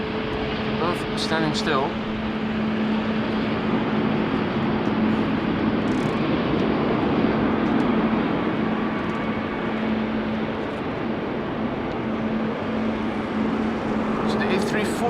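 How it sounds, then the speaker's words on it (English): Boeing 787 Dreamliner jet engines at a rainy Amsterdam Schiphol give off a steady broadband roar with a low hum, while a person talks briefly over them. "the engines of the Dreamliner that we're hearing"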